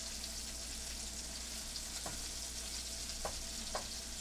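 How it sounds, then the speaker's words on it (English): Swedish meatballs fry in a pan with a steady, quiet sizzle, broken by a few faint clicks of stirring or turning. No one talks. "Okay, I finished frying up the meatballs, browned all the way around."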